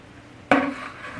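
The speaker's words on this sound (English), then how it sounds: "I just use a mug and scoop it out of the bucket into the container" A mug dips into a 5-gallon food-grade bucket of flour, making one sudden scraping scoop with a short ring after it, close by and alone.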